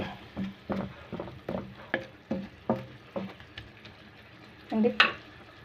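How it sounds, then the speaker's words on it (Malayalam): Vermicelli upma with onions being stirred in a pan: a series of close, rhythmic scraping strokes of the spatula over a soft sizzle, ending in a louder clatter, with no talking. "ഇട്ടതിന് ശേഷം നമുക്ക് ഉള്ളി ഇതൊക്കെ നന്നായിട്ട് യോജിപ്പിച്ച് കൊടുക്കാം"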